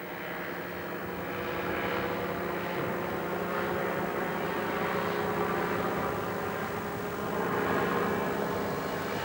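Light aircraft flying in a coast-to-coast air rally, a steady droning engine with a propeller hum, close and continuous with gentle swells in loudness and no talk.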